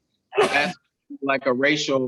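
A single sharp human sneeze bursts out at close range, followed right after by a person speaking.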